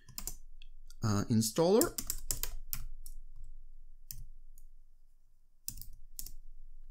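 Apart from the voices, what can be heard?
typing on a computer keyboard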